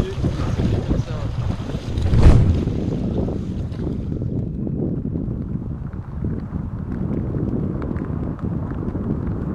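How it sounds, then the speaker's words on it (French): A headwind gusts across a microphone during a canoe trip on the Ashuapmushuan river, a steady loud roar of wind noise with a brief sharp knock early on. "Là on a un beau petit vent de face là."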